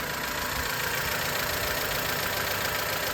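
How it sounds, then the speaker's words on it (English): A Honda Element engine idles just after a valve adjustment, a steady, fairly loud mechanical hum with a faint ticking texture running unchanged throughout, no voices. "So we fired up the engine"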